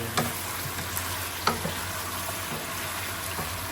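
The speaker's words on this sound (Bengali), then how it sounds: "একটু ভাজা ভাজা হোক" Steady frying sizzle fills the background, with a few clinks of a utensil against the pan, close and continuous, no talking.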